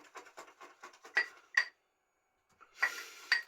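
A shaving brush works soap in a terracotta bowl, a close series of quick scratchy, clinking strokes, a second of silence, then another brisk burst of brushing.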